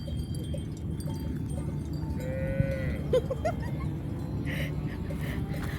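Out on open grassland, a herd of cattle lets out a few faint, distant moos over a steady wash of wind and outdoor ambience.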